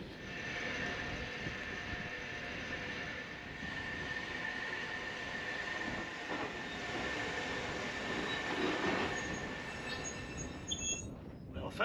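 A Snaefell Mountain Railway tram on the Isle of Man rolls up to the summit with a steady, close mechanical rumble and hum, wheels grinding faintly before a sharp clunk as it stops.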